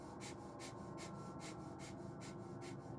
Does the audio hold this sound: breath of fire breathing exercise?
yes